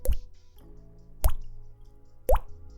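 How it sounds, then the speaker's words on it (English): Three separate water drops fall into a bowl at roughly one-second intervals, each a close, clear plop with a short resonant ring in an otherwise quiet room. "I recorded water dripping into the bowl"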